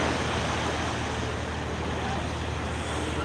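Sea waves and wind at Old Digha beach, a steady broadband roar of surf mixed with wind buffeting the microphone, loud and continuous over a brief stretch.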